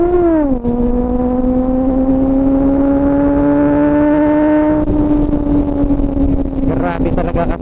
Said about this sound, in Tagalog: Grabe talaga ka-screamer ng motor na to.